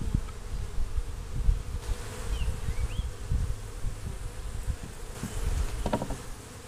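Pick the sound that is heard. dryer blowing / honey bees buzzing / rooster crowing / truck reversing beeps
honey bees buzzing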